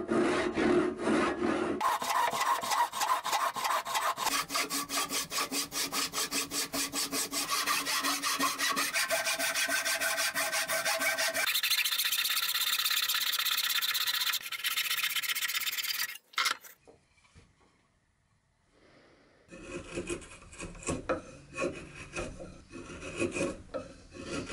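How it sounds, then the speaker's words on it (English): Steady rasping strokes of a hand saw cutting wood blocks for bedside tables, rhythmic and close, continuing for a long stretch before a pause and a lighter scraping. "so I could move on to sawing some shape into all these blocks"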